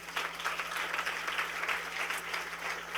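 A church congregation claps steadily together, a dense, continuous patter of applause filling the room at moderate loudness, with a faint low hum beneath and no speech.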